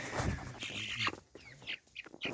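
Close mixed-breed roadrunner chickens give short clucks and a few higher squawky calls, loud at first and then in scattered bursts.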